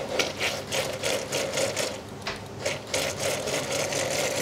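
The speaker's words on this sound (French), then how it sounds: "Et on va mixer tout en purée." A kitchen blender purées cooked lentils with water into a smooth emulsion, with a steady close whirring drone that pulses in quick rhythmic surges and has no talking over it.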